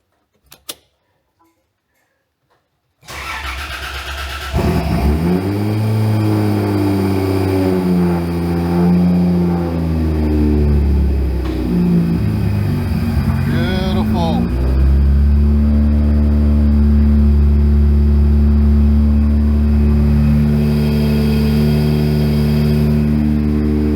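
A newly installed car engine cranks and catches after a near-silent pause with a few faint clicks, then settles into a loud, steady idle with a couple of rising revs and some mechanical creaking, no voices heard.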